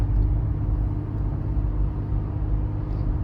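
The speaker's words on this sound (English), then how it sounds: "you will recognize this exhaust" A truck exhaust in Boone rumbles as a steady, deep, loud drone, continuous and alone without talk.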